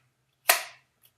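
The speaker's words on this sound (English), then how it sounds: "You will hear that very distinct Kydex click." A single sharp, close snap of an H&K VP9 pistol seating into a Bladetech Kydex holster, followed by a faint tiny tick a half second later.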